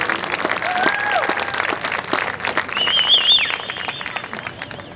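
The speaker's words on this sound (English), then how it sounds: "Let's give one more round of applause to all of our younger and older siblings" Crowd applause for the younger and older siblings at a marching band premiere: steady clapping runs throughout, with a voice speaking over it and a few whistles or shouts mid-clip.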